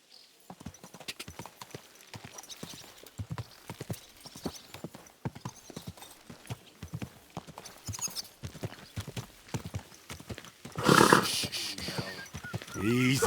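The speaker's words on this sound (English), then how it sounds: "Watch out with that horse." Horse hooves clip-clop in a steady walking rhythm in the medieval game Kingdom Come: Deliverance II, close and fairly loud, ending in a sharp bright burst.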